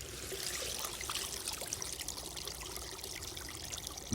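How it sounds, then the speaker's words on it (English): Water runs steadily at an old factory powerhouse, a faint continuous trickling stream with no voices. "there's a lot of water running right here"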